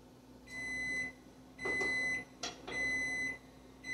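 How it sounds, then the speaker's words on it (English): A kitchen oven timer sounds three evenly spaced electronic beeps, moderately loud in a quiet kitchen, with faint clinks between them. "There's our timer."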